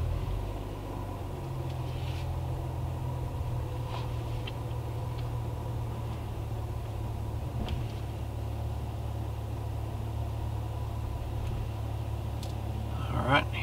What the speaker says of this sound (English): So now we are going to drive into the garage and perfectly park effortlessly.